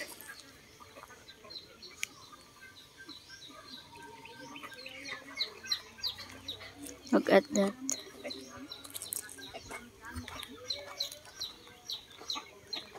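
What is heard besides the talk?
hen clucking while being fed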